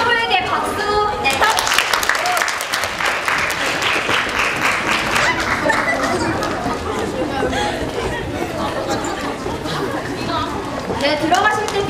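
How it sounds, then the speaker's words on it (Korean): Audience applause at a university lecture on kimchi, a dense, sustained burst of clapping mixed with lively crowd chatter and murmuring voices that carry on throughout. "그리고 프로에게 박수"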